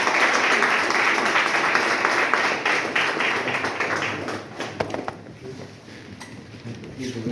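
An audience at a military conference hall applauds for veterans, dense loud clapping that gradually thins out and fades, leaving scattered individual claps near the end.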